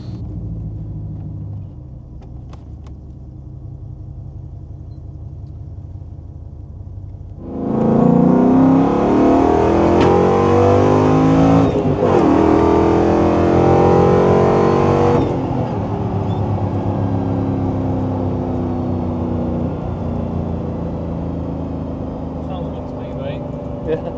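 A Land Rover Defender 110 fitted with a Coyote 5.0L V8 accelerates hard on a road test, its loud, rising engine roar lasting several seconds before dropping back to a steady cruising rumble, with voices under it.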